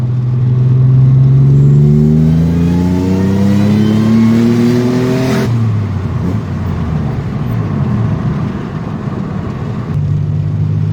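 A loud supercharged Toyota Tacoma 5VZ V6 truck engine revs hard, pitch climbing steadily for several seconds before dropping off into a rough, rumbling idle with a brief rise near the end.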